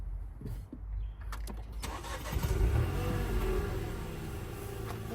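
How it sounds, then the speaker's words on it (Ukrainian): A 2024 Nissan Juke's engine cranks briefly and catches, then settles into a steady idle, heard up close inside the car. "Будемо зараз заводити авто."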